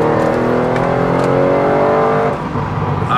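A Mercedes S65 with a V12 engine in sport mode pulls hard under acceleration. Its strong, steady engine tone runs loud and close, then dips abruptly as the throttle eases near the end.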